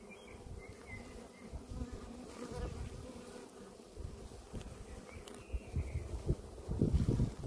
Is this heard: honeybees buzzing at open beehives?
yes